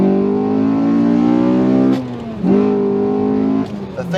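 Honda Accord Euro R with a K20/K24 engine swap and short gearing revs hard under acceleration in first, a loud rising engine note with two brief dips at the gear changes before climbing again.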